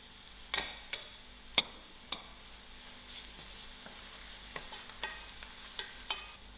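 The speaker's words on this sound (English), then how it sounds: "I'll allow this onion to fry out." Onions and garlic fry in a pan for a Durban-style tinned fish curry, a soft steady sizzle running throughout, broken by sharp clicks and taps of a utensil against the pan at irregular intervals.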